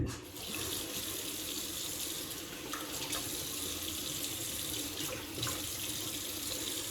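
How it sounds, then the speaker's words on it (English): A bathroom tap runs steadily into a sink while someone washes their face, giving a continuous close splashing rush with a few brief changes in the flow. "I'm gonna wash the rest of my face"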